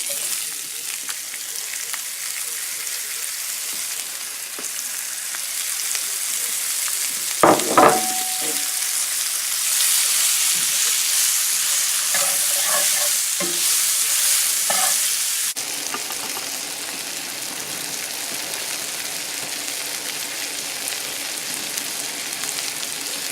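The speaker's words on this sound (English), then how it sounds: "I'm going to cook up my onions" Onions frying in a pan after liver, a steady loud sizzle throughout with a few clanks of stirring midway and the hiss shifting in texture later on.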